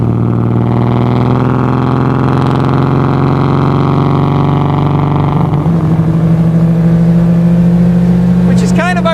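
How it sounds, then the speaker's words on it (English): A vintage BMW roadster's exhaust booms with a loud, deep, steady drone, then the pitch shifts and rises as the engine note changes partway through. "the exhaust. This thing sounds like a Spitfire."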